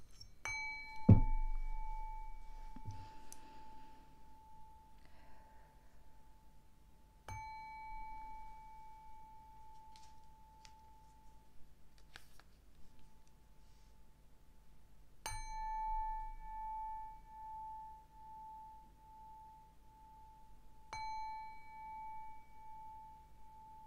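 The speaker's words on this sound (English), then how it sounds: "I'm going to ring a bell a couple of times" A hand bell rung four separate times, each strike a clear metallic ding with a long, slowly fading ring, heard close and alone in a quiet room.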